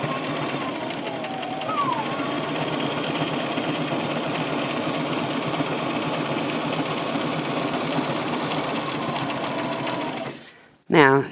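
A sewing machine stitches a fabric face mask with a steady, rapid close mechanical chatter for about ten seconds, then stops abruptly, with a brief clunk at the end; a person talks over it at times.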